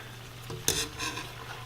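A serving ladle stirring clarified butter in a pot, a short burst of metallic scrape and clink mid-way over a faint steady hum, close and brief.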